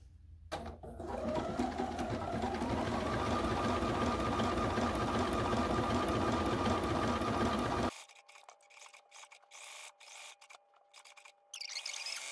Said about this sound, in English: just quickly stitch around this little guy here.